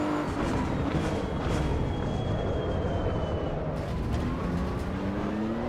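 A GT3 race car lapping in the Assetto Corsa EVO driving game, a continuous high engine whine rising and shifting through gears, loud and unbroken with no talk.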